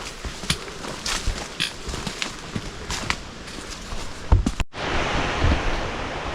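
Steady broadband rush of falling water in the woods along the Teaberry Loop in Quehanna Wild, continuous and moderately loud, with a few sharp knocks near the end before the noise shifts to a denser, closer wash.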